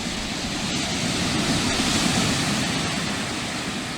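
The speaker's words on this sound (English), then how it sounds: "Hear the roar of the waves." Waves roar steadily on the rocky, pebbly shore of Seaham beach, a dense, unbroken broadband wash that stays loud and close throughout with no voices.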